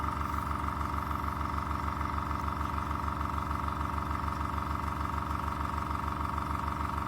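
A Fengda air compressor runs continuously while filling its tank, a steady rapid motor hum with a fast mechanical pulse, unchanging and moderately loud throughout, with no talking.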